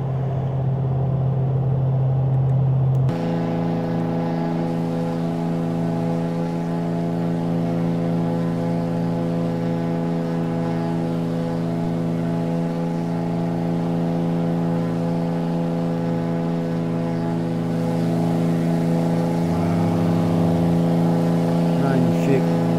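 A twin-engine Piper PA-34T Seneca in Microsoft Flight Simulator 2020 throttles up, its steady droning hum jumping to a louder, fuller tone after a few seconds and holding continuously, with a brief shift in pitch near the end.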